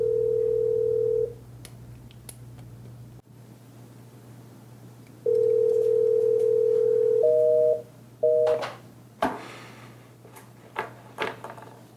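A speakerphone call to a clinic building goes unanswered: long steady telephone tones sound over a constant low hum, repeated after a silent gap, followed by a few short beeps and clicks.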